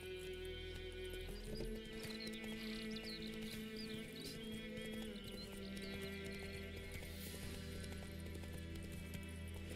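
Horse hooves clip-clopping steadily as Roach trots through The Witcher 3, a continuous rhythmic patter over ambient game music and background layers, with a brief whinny-like note mixed in.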